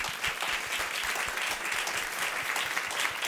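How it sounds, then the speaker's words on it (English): A crowd applauds loudly and continuously, many hands clapping in a dense, sustained burst with no talking. "Please give a round of applause to WNYC."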